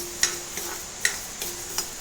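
Horse gram dry-roasting in a wok-style pan over a gas flame gives a handful of light, sharp ticks and rattles at irregular intervals over a steady faint hiss, close by and with no voices.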